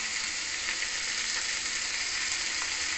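Sliced onions frying in a pan with salt and turmeric, a steady dense sizzle that holds evenly throughout, close and alone without speech.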